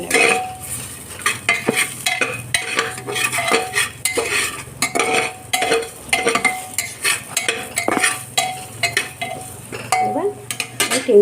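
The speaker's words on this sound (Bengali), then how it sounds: "আর দেবো অল্প একটু হলুদ গুঁড়ো, আর দেবো একটু লবণ গুঁড়ো দিয়ে এবার একটু এগুলো ভালো করে একটু নেড়ে নেব" Spices with turmeric and salt being stirred in a pan, a spoon scraping and clinking against the metal in quick irregular strokes over a soft sizzle, close and clear with no talking.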